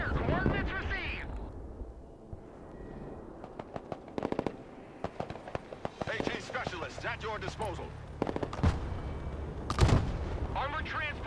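Hellfire missiles fired from a multi-mission launcher in the Broken Arrow war game, heard as sharp explosive launches and booms scattered among battlefield noise, with a voice talking over parts of it.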